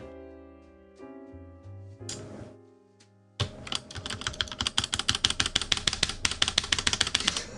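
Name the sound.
typing on Duckboard R2 mechanical keyboard with rattly stabilizers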